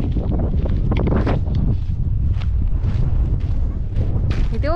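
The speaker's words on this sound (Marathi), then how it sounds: "खूप वारा सुटलाय संध्याकाळचे 5 वाजलेत आणि आम्ही चाललोय रानात वाऱ्याचा खूप आवाज येत असेल" Strong evening wind sweeping across open fields in the countryside, a loud continuous roar buffeting the microphone throughout, with faint rustling underneath.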